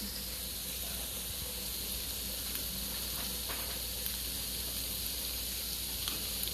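Cabbage and garlic frying in a pan, a steady, soft sizzle and hiss that continues evenly throughout without talk.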